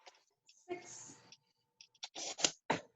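Scissors cut through card to make small one-inch pieces, giving a few short crisp snipping and rustling bursts close by, with quiet gaps between the cuts.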